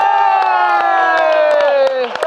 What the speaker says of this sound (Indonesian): Langsung aja tepuk tangan untuk komika asoy.